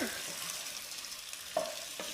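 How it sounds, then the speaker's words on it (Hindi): A snack is stirred into a sizzling Indian spice tempering in a pan, with a steady hiss of frying fat and a couple of soft scraping knocks from the spoon. "इस तरह से हम इसको मिला देंगे तड़के के ऊपर"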